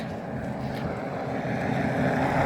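Steady wind buffeting the microphone, a broad low rumble that holds constant and swells slightly toward the end, with no voices.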